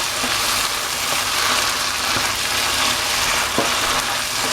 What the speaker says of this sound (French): on va ajouter notre purée de tomates